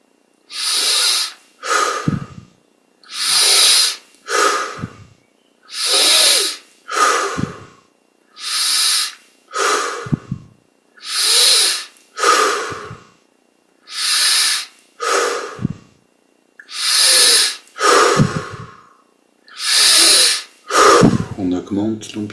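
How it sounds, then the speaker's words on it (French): Deep yoga breathing during a meditation session, in through the nose and out through the mouth: about eleven long, loud, evenly paced breaths, each a broad airy rush with short gaps between, close to the microphone. "On prend une vingtaine de grandes respirations. Inspire par le nez, expire par la bouche."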